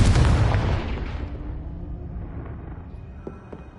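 A loud burst of the Confringo explosion spell in a Harry Potter video game, a sharp boom that fades slowly into a long rumbling decay.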